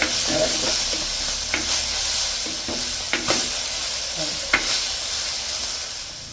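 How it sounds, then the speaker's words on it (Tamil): Spices with turmeric, cumin and dried chillies sautéing in a pan, giving a loud, steady sizzle and hiss with occasional stirring knocks close by. "மஞ்சள் எல்லாம் போட்டு நல்லா வதக்கிட்டு"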